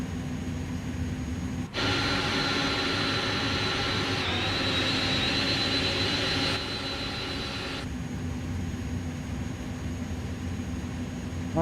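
Jet engines of an Airbus A300-600F in Microsoft Flight Simulator 2024 spool up into a loud, steady whine and roar that holds for several seconds before easing back to a lower continuous drone.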